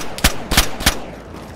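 Three sharp gunshots crack out in quick succession, about a third of a second apart, in the survival game DayZ at an abandoned fort base, then the clip falls quiet.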